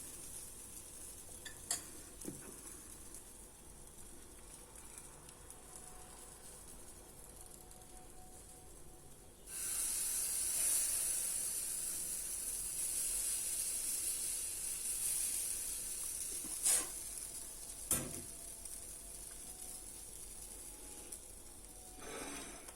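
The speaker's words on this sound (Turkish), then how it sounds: "şöyle spatula ile iyice sıyıracağım." A spatula works at a keto crepe made with chia seeds and labneh in a hot pan. A steady sizzling hiss rises about halfway through, with a few brief sharp scrapes and clicks scattered across the quiet kitchen.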